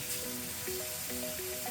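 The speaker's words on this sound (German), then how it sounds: "dann brate ich die anderen beiden Scheiben an" Beef shank slices sear in a very hot pan, giving a continuous, even sizzle close to the listener, while a faint tonal hum runs underneath throughout.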